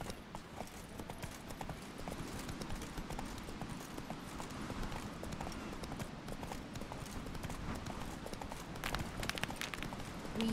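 Steady clip-clop of the horse Roach's hooves in the video game The Witcher 3, a continuous close trotting rhythm over a faint ambient bed.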